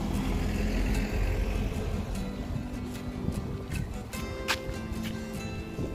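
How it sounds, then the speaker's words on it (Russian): A car passes along a seaside road on a sandy spit by the Sea of Azov near Kirillovka, a broad swelling whoosh of tires and engine with wind noise, fairly close, no talk. "Подожди, машина."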